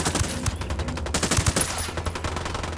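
Gunfire in Ghost Recon Wildlands during a firefight defending a radio broadcast, rapid close bursts of automatic shots in an uneven rhythm, loud and continuous over the whole stretch.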